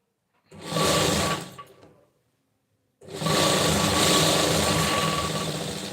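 Sewing machine stitching a pink cloth blouse piece, running in two loud, steady whirring bursts with a short pause between them.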